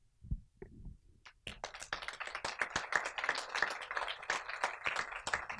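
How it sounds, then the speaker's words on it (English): After a couple of soft knocks, an audience at a Supergirl fan Q&A session breaks into sustained clapping, many sharp overlapping claps building into steady applause that carries on for several seconds. "I'm glad someone else started clapping"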